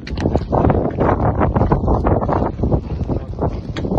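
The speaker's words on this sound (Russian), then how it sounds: "А это еще даже не сильный ветер." Strong wind blows against the canvas tents of a mobile field hospital, a loud, close roar with flapping and gusty buffeting that continues the whole time.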